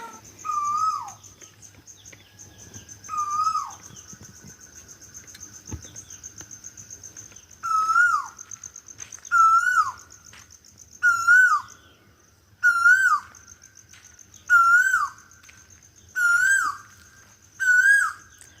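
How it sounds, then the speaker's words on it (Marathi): An Asian koel calls repeatedly, its clear rising notes returning at a steady pace and growing more frequent, with faint insects buzzing underneath. "जसं कोकिळेच्या सुराने मंत्रमुग्ध झालेलं आहे वातावरण"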